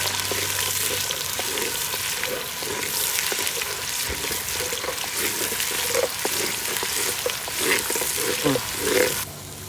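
Onion paste frying in a pot for goat leg (mutton paya) curry, a steady broadband sizzle running throughout with occasional louder crackles and stirring scrapes near the end.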